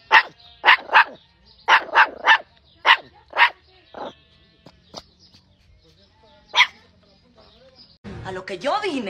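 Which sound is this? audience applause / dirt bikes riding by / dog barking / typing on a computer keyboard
dog barking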